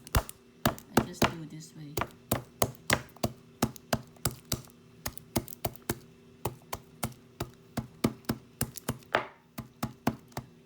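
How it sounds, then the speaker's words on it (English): Garlic smashed on a wooden surface, a long run of sharp, evenly spaced knocks close by, with someone speaking briefly over the start. "You smash the garlic, or you can put in the mortar."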